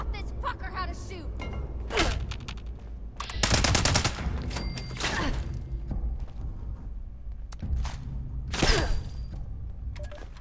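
Enemy gunfire in a video game, rattling out in loud repeated bursts and heavy shots against a busy background of other game sounds, with someone speaking partway through.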